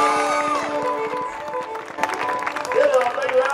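Rodeo crowd applauding and cheering a hometown cowgirl's barrel run at the Canoe Mountain Big 4 Rodeo in Valemount, BC; steady clapping builds under a loud announcer's voice and swells toward the end.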